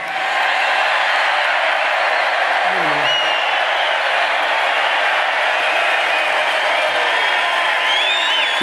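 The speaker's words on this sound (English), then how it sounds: "This is a feisty little crowd, isn't it?" A large, feisty crowd at a Trump rally in a massive Allentown stadium roars continuously, with a dense, loud wash of cheering and scattered whoops throughout.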